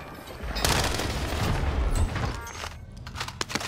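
Distant gunfire crackles in scattered bursts and booms during a Call of Duty Warzone match on Verdansk, fairly faint and muffled, with a few sharper shots near the end.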